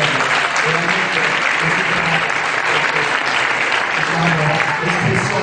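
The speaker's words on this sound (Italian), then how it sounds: "un applauso all'ingegnere Marino" A conference audience breaks into dense, sustained applause for engineer Giovanni Marino, a loud, even wash of many hands clapping at once that holds steady throughout.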